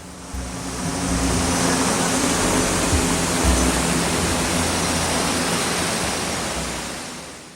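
Rushing water of Rudra Falls, a waterfall, a dense steady roar that swells in and holds loud and even throughout with no voices.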